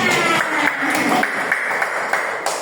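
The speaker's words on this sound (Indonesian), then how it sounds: "Hebat, tepuk tangan." Children in an elementary school classroom clap together during a science lesson, a steady, fairly loud patter of many hands close by that gradually thins out.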